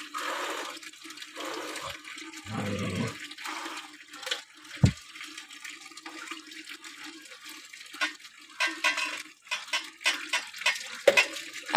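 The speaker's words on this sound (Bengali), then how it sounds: "একদম টাইম কলের জল দিয়ে স্নান চলছে" Tap water splashes and runs during a bath with cold water, a continuous wet hiss broken by irregular pours, drips and sloshes at close range, with no clear talk.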